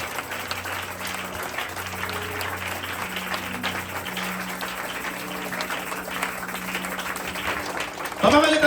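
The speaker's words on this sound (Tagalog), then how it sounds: "Palakpakan natin ang ating Panginoon, yung malakas na palakpak para sa ating Diyos." A church congregation applauds loudly and continuously for several seconds, a broad crowd clapping that holds steady and then swells at the end, with faint organ-like tones underneath.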